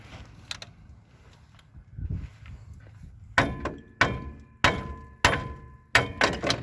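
Five sharp metallic strikes of a hammer hitting a ball joint on a 1997-2003 Ford F-150 ring out at a steady pace after a stretch of quiet shuffling, each hit loud and close with a short ringing decay.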